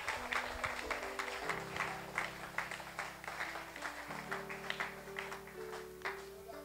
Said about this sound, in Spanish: Apláudale, denle palmas a Cristo esta noche